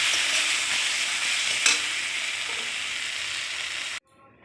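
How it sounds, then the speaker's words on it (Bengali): Ground chili powders and spices sauté in hot oil in a pan, producing a dense, even sizzle for about four seconds with one brief scrape before it cuts off abruptly. "এবার এটাকে ভালো করে কষিয়ে নেব।"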